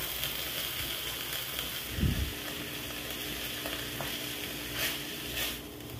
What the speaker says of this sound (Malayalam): നമുക്കിനി ഇത് തുറന്ന് വെച്ച് തന്നെ നന്നായിട്ടൊന്ന് ഇളക്കി കൊടുത്ത് ഇതിന് വെള്ളമൊക്കെ ഒന്ന് വെച്ചെടുക്കാം